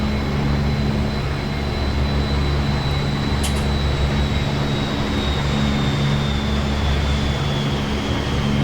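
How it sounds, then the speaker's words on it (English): A B-52 bomber rolls along a rough taxiway in the DCS flight game, its engines producing a loud, constant droning hum with a faint high whine that holds steady throughout. "And here comes the second B-52."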